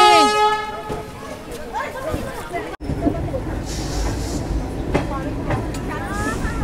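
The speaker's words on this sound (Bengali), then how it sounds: "ছেড়ে দিল আমাদের ট্রেন রুড়কি স্টেশন থেকে।" Passenger train pulling out of Roorkee station bound for Haridwar, a horn blast at the start followed by rumbling, clattering rail noise, with a person talking over it.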